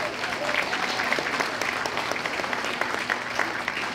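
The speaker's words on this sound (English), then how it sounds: "they're awful weak with this applause tonight" A church hall audience claps for a monsignor at a parish Christmas event, a steady moderate wash of many hands filling the room, fairly even in level throughout.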